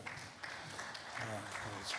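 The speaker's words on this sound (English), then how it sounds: "Another round of applause for Group 2." A church audience claps for a children's group at a Sunday service, steady crowd applause of moderate loudness with a voice speaking over it.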